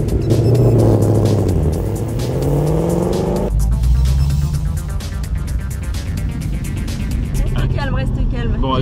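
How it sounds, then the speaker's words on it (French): A Ford Mustang Mach 1 accelerates hard on a race circuit, its engine note loud and close, rising through the gears with a sharp shift midway, and voices talking over it throughout. "sur circuit avec ma belle Mustang"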